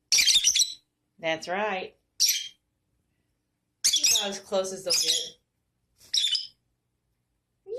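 Lovebirds give loud morning calls, sharp harsh squawks and chirps in separate bursts, close and piercing, with a person speaking briefly between them.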